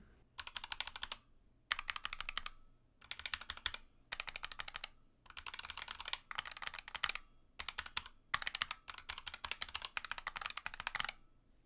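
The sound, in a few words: typing on Razer Huntsman keyboard with ABS and PBT keycaps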